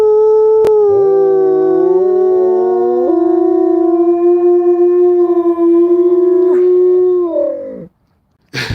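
A dog gives one long, wavering howl lasting about seven seconds, holding a steady pitch with slight bends. It is subdued rather than loud, heard alone without talk, and ends in a brief silence.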